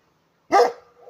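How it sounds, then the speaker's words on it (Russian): A single loud, close dog bark, short and sharp, followed by a faint trailing whine in an otherwise quiet setting. "Ребята просто с собачкой пришли"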